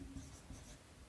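Faint, soft scratching strokes of writing out trigonometry working during a maths lesson, brief and quiet against background hiss.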